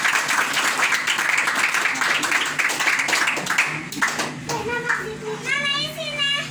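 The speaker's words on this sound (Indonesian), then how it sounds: "Tepuk tangan." Audience clapping at a prize-giving ceremony for an end-of-year competition at Pondok Pesantren Nurul Ulum, loud and busy for several seconds, then giving way to children's voices and chatter.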